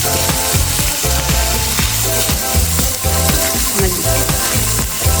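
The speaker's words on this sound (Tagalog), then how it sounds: "Haluin lang po natin ng maigi" Homemade dog meal of ground pork, salmon and rice stirred and fried in a pan, a loud steady sizzle broken by repeated scraping strokes of the spoon at an even rhythm, close up with no talking.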